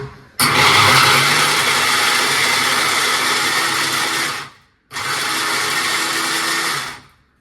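An electric chopper whirring loudly as it chops onion and green chilli, running in a long burst of about four seconds, stopping briefly, then spinning again for two more seconds.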